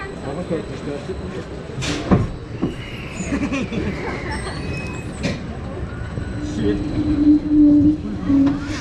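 On the Vild-Svinet roller coaster at Bonbon-Land, a rumbling ride noise rolls along with clacks and rattles, building louder and rougher toward the end, while voices talk over it.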